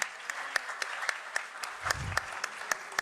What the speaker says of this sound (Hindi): उस्ताद रियाज अली खान साहब के लिए जोरदार तालियां होनी चाहिए।